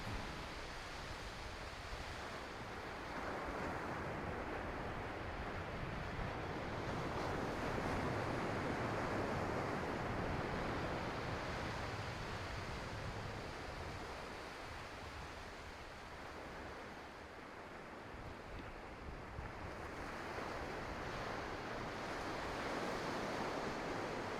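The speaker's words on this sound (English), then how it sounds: "just listen to the ocean" Ocean surf on the Algarve coast of Portugal in January washes in steady, broad swells of roaring noise, waves breaking and receding with wind, no voices.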